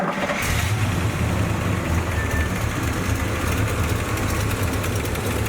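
A 1981 Pontiac Trans Am, abandoned for 18 years, cranks with a key and catches right away. It settles into a loud, steady, rumbling idle up close that continues without a break.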